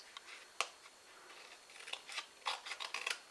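Scissors snipping the score line off a folded paper half-cracker gift box, several quiet, sharp crisp cuts with soft paper rustling between them, close and alone.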